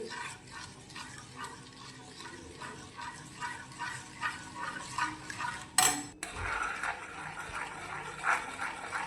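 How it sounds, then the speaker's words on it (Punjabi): Sugar melting in a pan is stirred continuously, giving soft repeated scraping and clinking of a utensil against metal, with a brief louder clatter midway and no talk. "ਤੇ ਲਗਾਤਾਰ ਇਹਨੂੰ ਪਹਲਾਉਂਦੇ ਹਿਲਾਉਂਦੇ ਰਹਿਣਾ"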